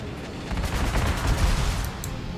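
Artillery bombardment in the strategy game Panzer Corps 2, a quiet rolling rumble of overlapping distant blasts that swells and fades over a couple of seconds.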